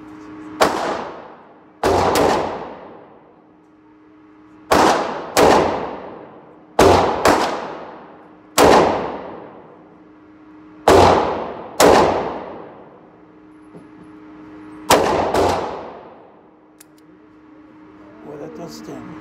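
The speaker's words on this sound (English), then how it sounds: "I was able to put 50 rounds of 357 Magnum through it this afternoon" A Smith & Wesson M&P 340 .357 Magnum revolver is fired outdoors with full-power magnum rounds. Nine loud, sharp gunshots ring out at irregular intervals, each ending in a decaying echo.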